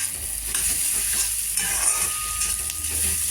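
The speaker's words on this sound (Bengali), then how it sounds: "তো এই যে মশলা এখন কষাচ্ছি" Garlic and onion masala frying for chicken curry in a pan, a steady close sizzle running throughout with soft stirring scrapes layered over it.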